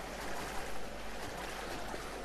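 Murky yellow water flows steadily in the Resident Evil 0 HD Remaster video game, a continuous, even rushing wash with no voices over it.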